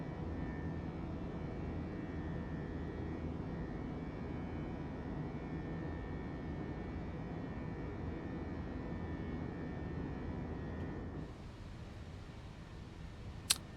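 A Fenix A321 airliner climbing out of London Heathrow in Microsoft Flight Simulator, a steady broadband engine roar that drops abruptly to a quieter hum near the end, closing with a faint click.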